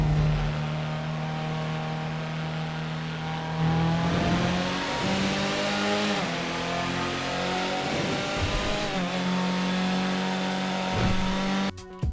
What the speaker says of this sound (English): Unlike the 4-cylinder models, this one is armed with a twin-turbo V8.